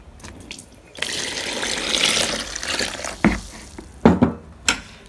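Water poured from a tap into Moroccan baghrir batter, a steady close splashing stream followed by a few sharp drips and knocks, with no talking.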